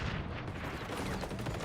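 Video game gunfire in a first-person shooter match, a dense, continuous burst of shots filling the whole moment with loud, roaring noise.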